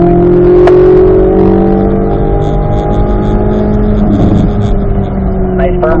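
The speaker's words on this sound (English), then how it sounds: "And then we'll unwind and accelerate all the way down the straightaway. We'll shift it to 4th gear." A race car on a track straightaway roars loud and close, engine note climbing steadily under acceleration before dropping as it shifts into fourth gear and pulls on again.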